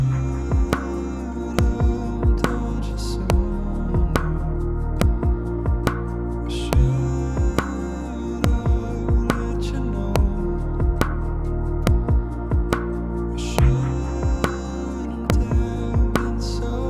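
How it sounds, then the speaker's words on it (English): A looping indie folk beat with a low humming pad that slowly warbles in pitch from a tape wobble effect, evenly spaced percussive hits running throughout, with no voices. "And then maybe some tape wobble."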